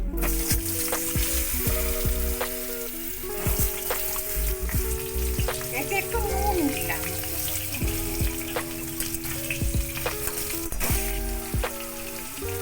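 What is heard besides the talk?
frying raw mango pieces in oil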